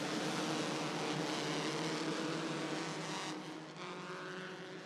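Race cars roar around an oval racetrack during a race night, a loud continuous blend of engines that swells and then fades slightly as the field moves away.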